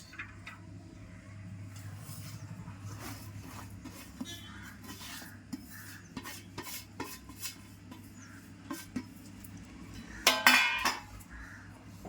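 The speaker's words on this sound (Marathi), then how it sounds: "आता आपल्याला हे सगळं एक ठिकाणी मिक्स करून घ्यायचं आहे. आणि यातच आपल्याला सुकं खोबरं पण घालून घ्यायचं आहे." Ingredients being mixed with dried coconut in a metal pot, a string of scraping and clinking strokes from the stirring utensil, ending in a louder burst of scrapes.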